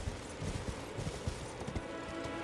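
Horse hooves clip-clopping steadily in the Elden Ring video game, a continuous rhythmic trot of moderate loudness with faint game ambience behind it.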